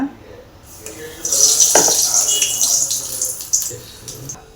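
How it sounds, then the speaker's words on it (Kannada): Mirchi bajji, battered green chillies, drop into hot oil and fry with a bright, hissing sizzle that swells after the first second and bubbles on unevenly. A voice talks over the frying. "ಆಯಿಲ್ ಕಾದಿದೆ ಮಿರ್ಚಿ ಬಜ್ಜಿನ ಬಿಡ್ತಾ ಇದ್ದೀನಿ ಆಯಿಲಲ್ಲಿ"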